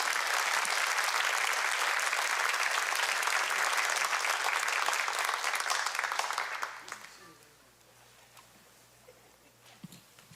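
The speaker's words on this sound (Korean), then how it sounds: "우리 세미안교회가 드리는 뜨거운 박수로 환영해 주시길 바랍니다" A church congregation at a Korean church service applauds warmly to welcome a pastor to the pulpit, dense steady clapping filling the room for about seven seconds before fading to quiet room tone.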